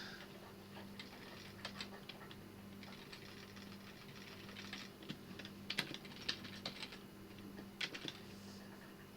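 Steady typing on an Italian computer keyboard, a run of close, quiet key clicks in an uneven rhythm with a few louder taps over a low hum, and no talking.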